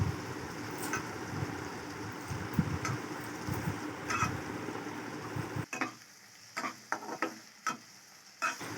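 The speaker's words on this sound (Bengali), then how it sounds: "মশলাটা ভালোভাবে কষিয়ে নিতে হবে।" Spice paste for ghugni frying and being stirred in a pan: a close, steady sizzle with scraping strokes that stops partway, followed by a few light clatters and taps in a quieter room.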